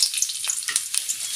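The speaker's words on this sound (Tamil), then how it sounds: "1 ஸ்பூன் பொடியாக நறுக்கின பூண்டு சேர்த்துக்கலாம்." A spoonful of finely chopped garlic frying in about three spoons of oil in a pan makes a close, steady crackling sizzle with small pops throughout this brief moment.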